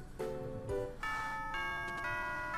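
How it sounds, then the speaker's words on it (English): A school bell chime in Pokemon Ultra Moon plays as a short sequence of clear, ringing electronic tones stepping through a simple melody. It is moderately loud and sits over faint game background sound. "that's the school bell"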